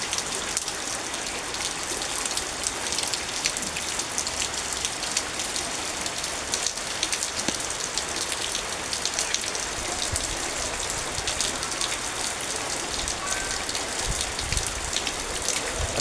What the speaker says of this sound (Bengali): এই দেখেন কী পরিমাণ বৃষ্টি হয়েছে,